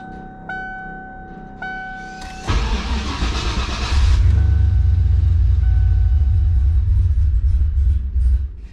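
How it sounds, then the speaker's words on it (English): A turbocharged Ford Mustang running E85 fuel cold-starts: two chimes, then the starter cranks briefly before the engine catches with a loud roar and settles into a deep, rough, rumbling idle close by. "This is an E85 cold start, so it's going to be very grumpy starting up."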